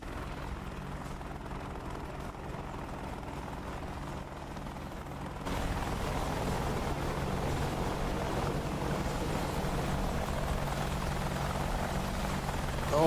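A radio-controlled model helicopter flies during a competition, its rotor giving a steady mid-distance whirring drone that grows louder and fuller partway through, with no talking over it.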